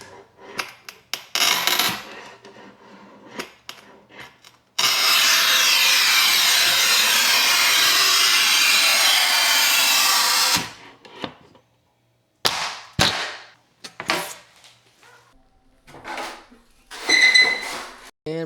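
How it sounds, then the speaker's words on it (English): A 48-inch manual tile cutter works on shower tile, with a steady scraping, grinding pass lasting several seconds, surrounded by sharp snaps, knocks and handling clatter. "the new 48-inch tile cutter showed up and it's cutting smooth as butter"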